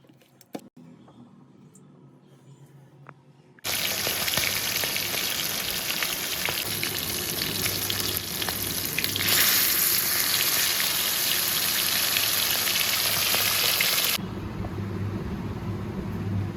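Spiced quail pieces coated in chili powder, chicken 65 masala and ginger-garlic paste sizzle and crackle in hot oil for quail biryani, a loud steady frying hiss that starts suddenly after a quiet moment and then cuts down.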